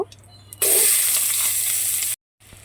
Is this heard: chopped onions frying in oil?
yes